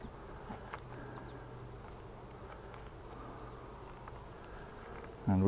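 Honey bees in an open hive during an inspection hum in a low, continuous drone, fairly faint and steady, with a brief louder thump at the end.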